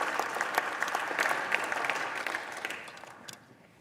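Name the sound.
applause at a hearing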